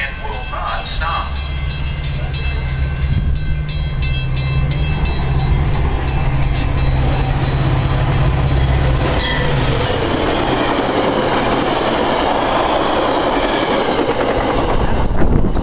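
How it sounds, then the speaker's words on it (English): A METRA express commuter train passes a Buffalo Grove station in pouring rain without stopping, a loud, close roar of wheels and cars with rhythmic rail clatter and squeal, the rush of rain underneath throughout. "The next METRA train approaching your station will be a METRA Express train and will not stop."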